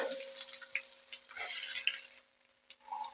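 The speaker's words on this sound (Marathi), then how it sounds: "चला, तर आता छानपैकी मी हे तेलामध्ये परतून घेणार आहे कमी गॅसवरती।" Chopped onion and ginger-garlic paste sauté in oil over a low flame, making a quiet, sparse crackle with faint stirring scrapes and a light hum in the background.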